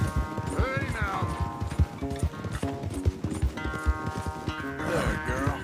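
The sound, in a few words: horse galloping in video game Red Dead Redemption 2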